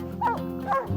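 Hunting dogs out after a treed black bear give two short, close yipping barks with a whimpering edge, one right after the other.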